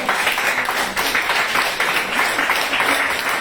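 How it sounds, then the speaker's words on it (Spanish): A church congregation applauds during a sermon, a steady wash of many hands clapping together at moderate distance with no pauses. "Denle aplausos al Señor."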